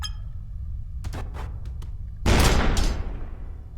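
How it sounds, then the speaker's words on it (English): Gunfire from a weapon in a video game: a few quiet sharp cracks, then a sudden loud burst that decays over a second, all set over a steady low rumble of game ambience. "what happens if you do shoot a person with this?"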